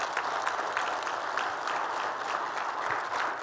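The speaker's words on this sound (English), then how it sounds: "Give yourself a round of applause." Dense, sustained applause fills a large hall at a national convention during the president's address. The clapping stays even throughout and no one speaks.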